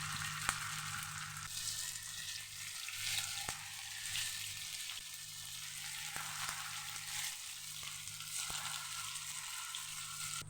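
Raw banana slices frying in oil for a banana roast, a steady close bubbling sizzle that runs throughout, with faint ticks and a low hum underneath.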